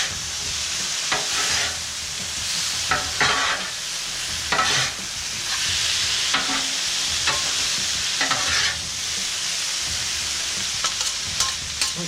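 Shrimp sizzles in a hot pan of jambalaya, a steady frying hiss broken by repeated stirring scrapes and clatters, close and fairly loud with no talking.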